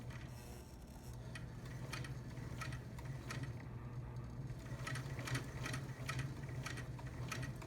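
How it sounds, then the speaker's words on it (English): A vintage Singer Stylist 513 sewing machine with an overhauled pedal stitching slowly: a faint low motor hum under a quiet, evenly spaced ticking of needle strokes, close by and without speech. "you can really get some nice slow speeds with this machine, with the fully overhauled pedal"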